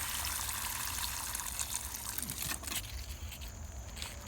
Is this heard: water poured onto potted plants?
yes